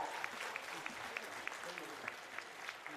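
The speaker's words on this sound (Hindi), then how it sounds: "तालियां भी आपकी तरफ से जोरदार हो।" Faint audience applause at a government job appointment-letter ceremony in Ranchi, with spaced, distinct claps standing out from a soft crowd background and a voice briefly audible underneath.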